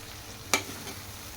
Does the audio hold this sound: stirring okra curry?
yes